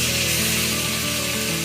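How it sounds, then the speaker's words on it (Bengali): Soybeans sautéing in a pan over low flame with a little water added, a steady continuous sizzle and frying hiss with no pauses, close and fairly loud throughout. "এইভাবে কিছুক্ষণ কষিয়ে নেব।"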